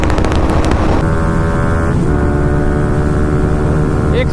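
A Bajaj NS200 motorcycle at a drag race, comparing stock and Akrapovic exhausts, revs hard with a loud, close engine drone that climbs in pitch through the gears with brief shift breaks.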